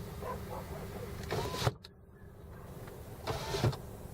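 Power windows on a 2001 Ford Explorer Sport close inside the cabin, two short motor whirs each ending in a soft thunk as the glass seats, with a quiet idling engine hum underneath.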